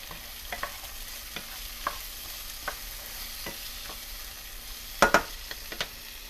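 Vegetables fry in a tablespoon of olive oil in a pan for a chili, giving a steady close sizzle broken by scattered spatula scrapes, with a sharper cluster of scrapes near the end.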